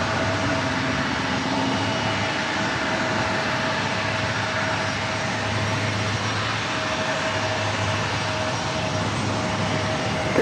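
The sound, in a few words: Air Canada Airbus A220-300 jet taking off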